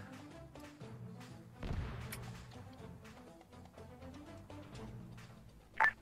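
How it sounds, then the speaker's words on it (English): Faint, distant gunfire in the military shooter game Arma 3 arrives as a quiet low thud partway through and a brief sharper crack near the end, over a soft, muffled background. "I just heard gunshots."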